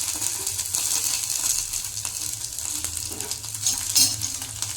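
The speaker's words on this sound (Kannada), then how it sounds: "ಈಗ ಇದು ಸ್ವಲ್ಪ ಎಣ್ಣೆ ಹಾಕಿ ಫ್ರೈ ಮಾಡ್ಕೊಳ್ಳೋಣ್ರಿ" Ridge gourd with onion frying in oil in a pan, a steady close sizzle with faint crackles throughout and a brief clink of a utensil near the end.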